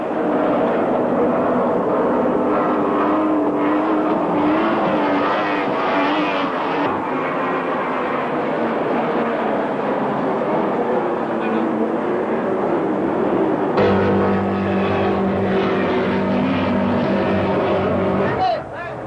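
Racing powerboat engines at the 1984 Rouen 24 Hours race roar loudly and steadily throughout, a thick continuous drone whose tone shifts slightly partway through.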